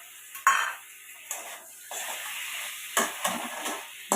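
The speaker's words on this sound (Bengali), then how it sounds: "দেবো থেঁতো করে রাখা গোলমরিচ দিয়ে নাড়িয়ে নেব" A spatula stirs crushed black pepper and tomato in a pan, with a light sizzle and several distinct metallic scrapes and clinks spaced irregularly, close and moderately loud; no voices.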